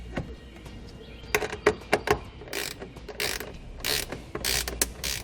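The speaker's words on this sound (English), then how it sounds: "So I use an 8mm to do that. Slide our ring terminal over it and tighten that nut back down." An 8mm ratchet tightens a nut onto a ground ring terminal during trailer wiring work on a 2019 Subaru WRX, giving close, loud bursts of rapid clicking ratchet strokes in uneven groups with short pauses between.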